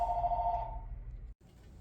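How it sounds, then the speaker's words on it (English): A shop telephone rings with a steady electronic trill over low background rumble, fading over about a second before cutting briefly to silence, then the room hum returns. "And there is my shop phone"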